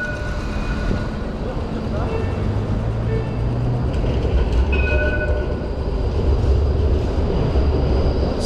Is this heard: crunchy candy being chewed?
no